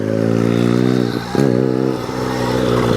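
A Rawrr Mantis X electric dirt bike with a 72-volt battery and 6,500-watt motor rides in eco mode, its motor giving a loud, steady electric whine with a brief dip and rise in pitch, close by.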